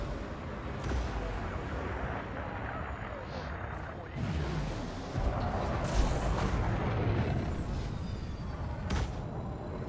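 Enemy ships fire on the player in the Elite Dangerous space game, a steady wash of weapon fire and dull booming impacts with a few sharper hits standing out over continuous rumbling.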